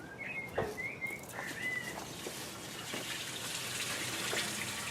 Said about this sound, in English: We'll put cooling water in the top.